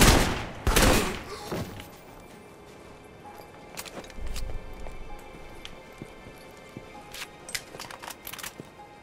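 Gunfire erupts in the video game Alpha Protocol, with a loud burst of rapid shots at the start followed by scattered sharp single reports and thuds over a low game background.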